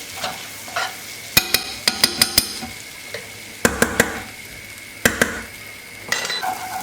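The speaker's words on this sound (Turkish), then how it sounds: "Tereyağı eridikten sonra içerisine bir yemek kaşığı dolusu nane ilave ediyorum." A tablespoon of mint added to melted butter in a pot while making chicken yayla soup, with soft sizzling broken by sharp clinks and taps of a spoon against the pan in quick bursts.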